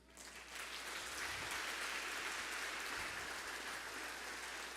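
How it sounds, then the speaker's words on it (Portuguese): Applause from a congregation at a church service builds quickly and continues as a steady wash of clapping, fairly soft and distant, with no talking. "Quem pode dar um aplauso ao Senhor aí?"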